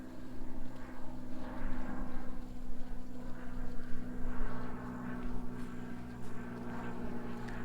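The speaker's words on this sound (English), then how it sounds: "Airplane flying overhead." A fixed-wing propeller airplane passes overhead above a pond on a Florida nature preserve trail, a faint, steady droning hum that swells and fades slightly over several seconds, with no talking.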